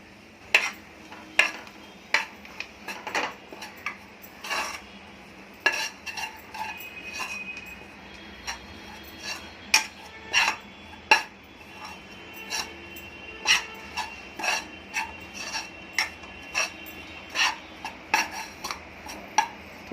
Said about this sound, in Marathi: अर्धा किलोसाठी एवढं पीठ बस होतं ते आपण आता थोडंसं भाजून घेऊया